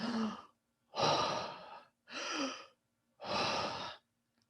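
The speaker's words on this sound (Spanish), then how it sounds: "si respira con mayor amplitud, o sea, es una respiración profunda" A person demonstrates deep, wide-amplitude breathing as an example of hyperpnea, with four long, full breaths in and out at an even pace that are clearly audible and separated by brief pauses.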